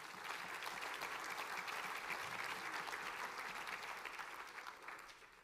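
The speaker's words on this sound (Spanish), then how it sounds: "Dele un aplauso al Señor." A church congregation applauds for the Lord during a Christmas sermon, a steady wash of many hands clapping that holds strong for several seconds and then begins to thin slightly at the end.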